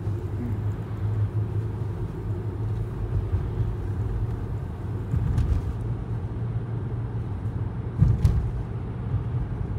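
Low, steady rumble of road traffic as cars pass nearby, with swells in engine noise around the middle and near the end.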